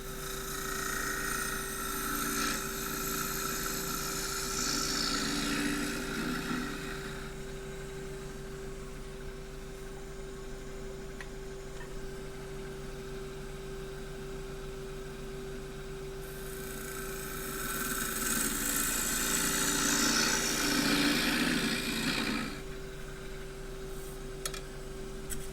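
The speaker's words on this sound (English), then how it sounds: "Whenever you think the gouge could be a bit sharper, go to the grinder." A bench grinder runs with a constant whine as a woodturning gouge is sharpened during maple bowl turning. Two long, harsh, gritty grinding passes rise over the hum, separated by a quieter stretch.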